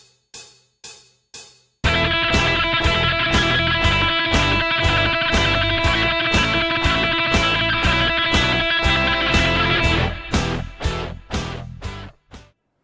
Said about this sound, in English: you heard me playing semiquaver triplets there, 24 to a bar, pretty fast